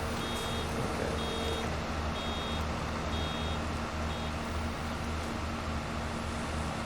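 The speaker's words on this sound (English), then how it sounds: "usual trick of reversing all the way out the back end of the field" Combine harvester in Farming Simulator 22 reversing out of a sunflower field in the rain, five evenly spaced high reversing beeps over a constant low engine rumble.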